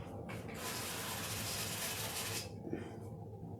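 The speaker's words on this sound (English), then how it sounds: "I'm going to spray these lightly with olive oil." An oil sprayer mists olive oil lightly over raw shrimp, a soft steady hiss lasting a couple of seconds, then fading into quiet handling sounds.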